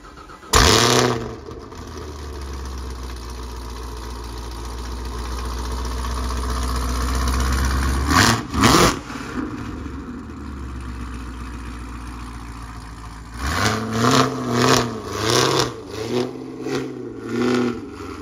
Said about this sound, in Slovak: Pali Kromka z Autopalen, práve ide preparkovať toto Camaro na svoje miesto, takže ja vám pustím zvuk z tohto auta.